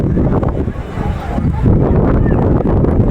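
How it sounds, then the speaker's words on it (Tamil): Sea breeze on the coast at Kanniyakumari, heard as steady wind buffeting the microphone. A low, rough roar stays loud and continuous throughout, with a slight surge partway through. "கடல் காற்று சூப்பராக இருக்கு"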